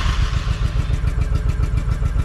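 A motorcycle engine has just caught and runs in quick, even, chugging pulses, close and fairly loud, with a light mechanical clatter.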